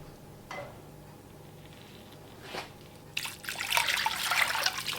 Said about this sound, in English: The next step is to put a quart of water in there.